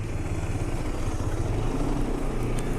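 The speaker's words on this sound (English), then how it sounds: "See, guys, all the buses are pulling in" London buses rumble into a garage, low engine noise rolling continuously and fairly loud, with no voices.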